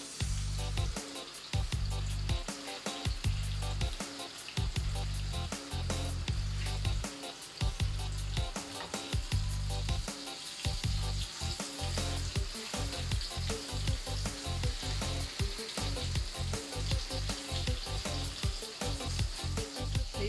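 Peshawari chapli kebabs frying in a pan give a loud, close, continuous sizzle with rapid crackling pops and spits throughout.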